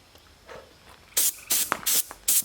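Compressed air blows off a sanded, lacquered scratch-built electric guitar body in several short, loud hissing bursts separated by brief pauses, close up.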